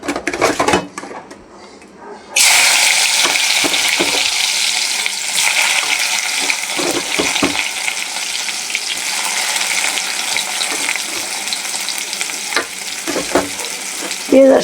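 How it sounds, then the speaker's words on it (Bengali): Onion dropped into hot oil in a pan bursts into a loud, sustained sizzle after a short stretch of quieter clatter, with occasional utensil knocks as it fries. "তেল গরম হয়ে গেছে, পেঁয়াজটা দিয়ে দেব।"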